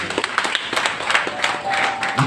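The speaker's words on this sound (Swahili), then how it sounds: "Sasa kumpatia Mungu makofi mazuri." A church congregation gives a round of applause to God. Dense, lively clapping rises and falls at close range, and a few voices can be heard within it.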